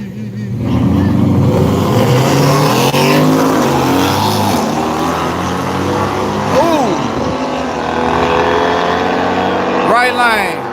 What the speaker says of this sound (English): Ford F-150 versus AMG.